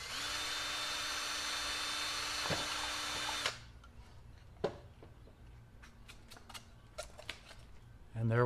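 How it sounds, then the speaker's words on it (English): A handheld power drill with a 1/8 inch bit bores a hole in a homemade pillar candle mold, whining steadily for a few seconds before stopping, followed by scattered clicks and handling noises. "Just using our drill and a 1/8 drill bit."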